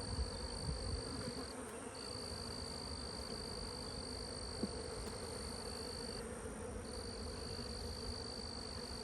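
Honey bees buzz steadily at an apiary hive in a cow pasture, a dense, continuous drone close by with a faint high tone running through it.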